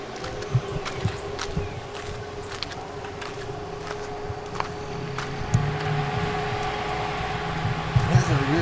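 Outdoors, the rear-facing fan of a 12 volt air conditioner keeps up a steady tonal hum and whir, with faint clicks and handling knocks scattered on top and the level swelling slightly near the end.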